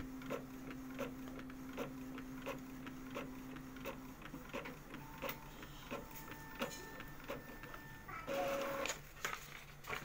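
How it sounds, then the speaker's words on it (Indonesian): An Epson L3150 inkjet printer printing a nozzle test, its print head shuttling in quiet rhythmic passes with soft clicks and motor whines, ending in a brief louder feed noise, heard close and alone. "Kita tes print nozzle untuk mengetahui kondisi nozzle dan serial number printer yang akan kami kirim."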